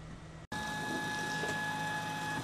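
A RepRap Prusa Mendel Iteration 2 3D printer prints a 20 mm cube, giving off a steady mechanical whine with a sustained high tone after a brief dropout, close and continuous.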